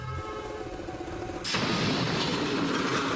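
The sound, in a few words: train hitting a car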